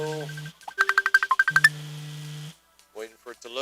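A cell phone rings with a rapid series of bright electronic tones in two bursts, heard in a garage during a casual chat, followed by someone speaking.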